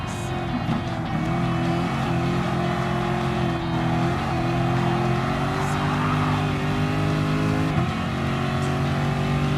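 Race cars roaring through the final lap of a Gran Turismo Sport custom race, with steady loud engine drone, shifting pitch as they accelerate, brief tire squeal, continuous throughout.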